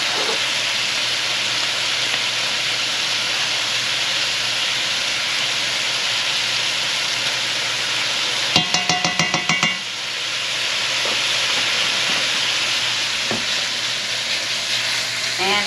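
Onion and vegetables fry in a pot for wild hog stew, giving a loud, steady sizzle close by. About midway there is a brief burst of metallic scraping and stirring, and then the frying carries on.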